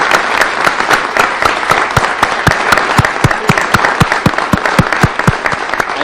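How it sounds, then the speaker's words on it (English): Loud, close audience applause at a public safety event in Boston, with many hands clapping and strong, rhythmic nearby claps punching through the crowd's steady clatter for the full six seconds. "Let's give her a round of applause."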